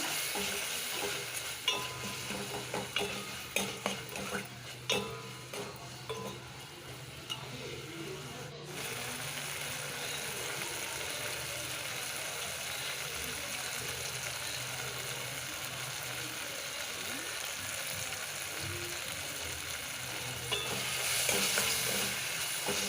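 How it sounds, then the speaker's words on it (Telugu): Turmeric, chili powder and green chilies stirred around a frying pan for a sambar, giving a steady soft sizzle with scraping spoon strokes, busier in the first few seconds and then an even frying hiss. "ఇప్పుడు పసుపు కారము పచ్చిమిర్చి వేస్తున్నానండి"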